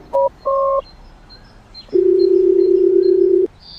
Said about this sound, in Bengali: চা খেয়ে অর্জুন ফোন লাগায় পার্থকে।